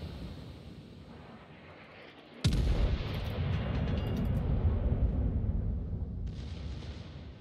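Sudden heavy blast as a torpedo strikes a ship in a naval video game, erupting after a quieter lead-in into a long roaring rumble with crackling debris, then fading slightly.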